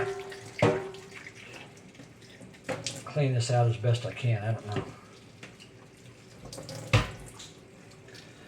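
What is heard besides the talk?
soapy water poured into flooded car instrument cluster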